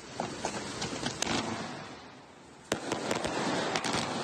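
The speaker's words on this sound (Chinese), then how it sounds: "好几名青少年在土城少年观护所外燃放烟火，五颜六色的烟火瞬间在天空绽放" Fireworks set off by a group of teenagers late at night outside a juvenile detention center in Tucheng, with a cluster of sharp bangs and crackles early on, a lull, then a loud burst followed by several more pops.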